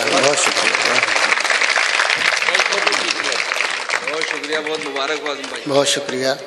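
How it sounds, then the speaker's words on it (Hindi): Audience applause at a mushaira poetry gathering in Ganjdundwara, marking a book launch: dense, steady clapping fills the whole stretch while someone speaks over it. "एक बार तालियां बजा दीजिए इजरा के मौके पर"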